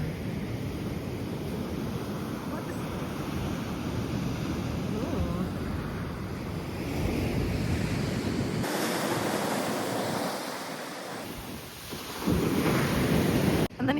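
Ocean surf rolls onto a foggy rocky shore at Acadia National Park, a loud, continuous wash of waves with wind rumbling against the microphone.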